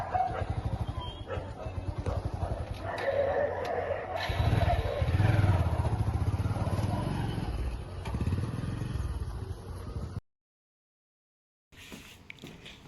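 A motorcycle idles and rides close by on the way to school, its engine a low steady rumble, with a dog barking and people talking over it before a sudden cut.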